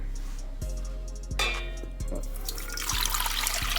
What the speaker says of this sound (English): take your 100 degrees Fahrenheit water and put it in here